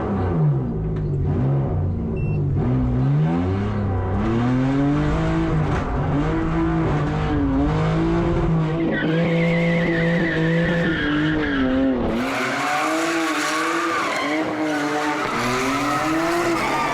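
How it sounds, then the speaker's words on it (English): A rally car, heard from a passenger ride, accelerates hard with a loud, continuously revving engine that climbs and drops through gear changes, while its tyres skid and squeal across the surface, and no one speaks. "I'm going to be going on a ride in this car"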